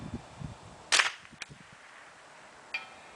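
A Ruger 10/22 rifle firing .22 LR rounds at a 300-yard bullet trap: one sharp close crack, then a fainter pop and another quieter shot later, over quiet outdoor background.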